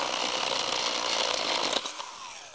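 A STIHL GTA 26 battery mini chainsaw cuts through dry elm wood, a steady high whining buzz held close and loud for about two seconds, then dropping off sharply as the cut finishes.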